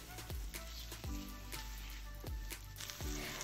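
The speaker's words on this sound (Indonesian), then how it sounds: "Panaskan minyak dan kemudian masukkan bumbu yang tadi udah kita siapkan untuk buat nasinya." Spice paste for nasi bakar sautéing in hot oil, a steady close sizzle with a few sharp spatula knocks against the pan.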